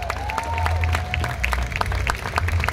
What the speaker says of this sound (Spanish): Así que un aplauso para Mirta.